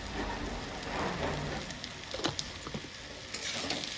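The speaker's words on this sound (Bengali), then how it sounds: "আমার মাশরুম ভাজা হয়ে গেছে এবার সবশেষে দিয়ে দিচ্ছি হালকা গরম মশলা" Mushrooms fry in a pan with garam masala, giving a steady, close sizzle with a soft hiss and scattered small pops and crackles throughout.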